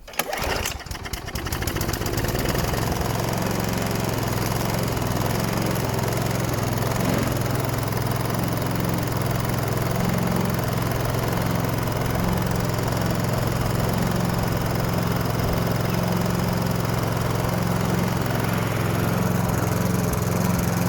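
A Hayter 41 Spirit lawn mower engine starts with a rough burst then settles into a steady, loud, continuous running drone, close by and unbroken for the rest of the stretch.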